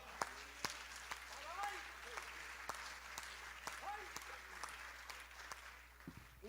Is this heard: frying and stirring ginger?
no